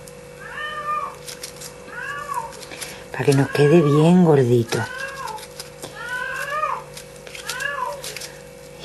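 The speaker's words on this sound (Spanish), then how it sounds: "Y qué gata más cansina, por Dios." A female cat meows repeatedly at close range indoors during stuffing of an EVA foam Christmas ornament with cotton, several short rising-falling cries spaced a second or two apart, mostly between and under a woman's speech.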